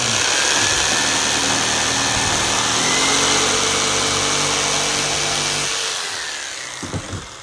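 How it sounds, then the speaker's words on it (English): A jigsaw held at an angle cutting through material during RV air conditioner modifications, a loud, continuous high-pitched motor whine and buzzing blade for about six seconds before winding down, followed by a couple of light knocks. "I take my jigsaw, just put it on an angle, and"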